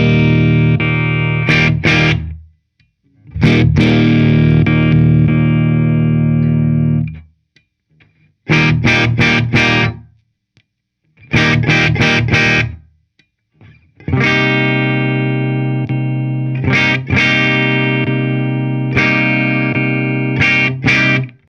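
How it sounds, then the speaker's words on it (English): A Gibson Les Paul Standard Plus electric guitar with its hot wire direct sound plays distorted chords and riffs in loud bursts, with sustained ringing notes separated by short silences. "let's go ahead and quickly hear the hot rod or hot wire or direct sound"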